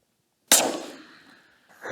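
A single loud, sharp rifle shot from a 7 PRC fired at a pronghorn in open country, with a decaying rolling echo afterward and no talk.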